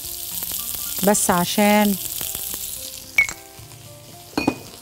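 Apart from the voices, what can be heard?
chicken kofta frying in butter and oil in a pan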